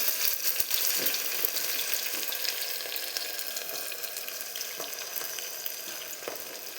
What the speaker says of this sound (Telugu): తర్వాత 2 పెద్దగా కట్ చేసి పెట్టుకున్న ఉల్లిపాయ ముక్కల్ని కూడా యాడ్ చేయండి.